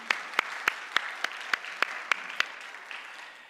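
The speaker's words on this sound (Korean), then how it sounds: "하나님께 영광의 박수 올려드리시기 바랍니다" Church congregation clapping in a praise of applause during a Sunday sermon, a clear steady beat of sharp claps with a dense bed of scattered hands, fairly close, with no talk.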